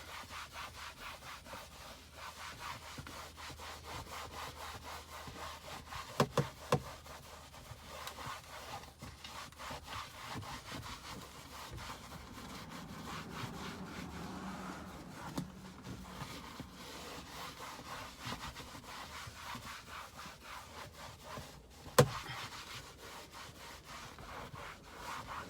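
A towel wipes ceramic coating across a car seat during an interior detail, giving a close, continuous rubbing and scrubbing texture with a few sharper scuffs, and no talking.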